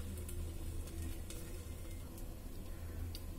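Ghavne, a thin rice crepe, steaming under a lid in a pan, giving off a faint, even sizzle and hiss that holds steady throughout with no talking.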